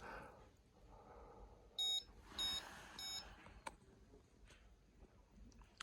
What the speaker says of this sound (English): So you get the high tone and the red alarm.